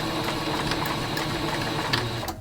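A sewing machine stitches a sleeve onto a T-shirt in a steady, close, continuous whir with small rhythmic ticks, running alone without talk until it stops abruptly near the end.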